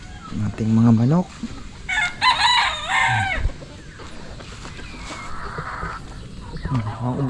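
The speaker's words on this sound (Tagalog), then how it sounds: "Ating mga manok." Backyard chickens cluck in short bursts while a rooster crows loudly nearby, a clear strained call that rises and falls; farm birds call on and off with no talk.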